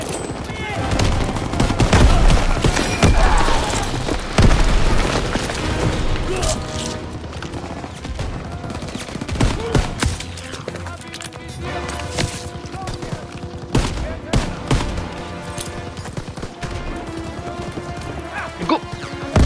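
Gunfire and explosions in the World War II shooter game Call of Duty WWII, a dense barrage of rapid shots and booms that rises and falls in bursts, with voices talking over the combat.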